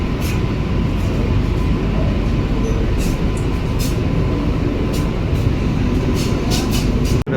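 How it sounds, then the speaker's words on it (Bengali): An AC local train on the Sealdah division rolls into Dum Dum Junction station in Kolkata, a loud, steady rumble of wheels and carriage noise heard close up from on board throughout. "এই মুহূর্তে আমাদের ট্রেন এখন দমদম জংশন"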